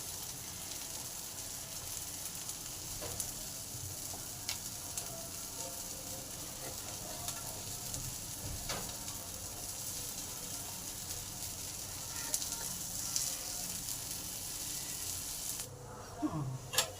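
Lentil and chicken fritters fry in a hot pan, giving a steady, dense sizzle and crackle that runs the whole time, fairly close, with occasional small pops and no talking.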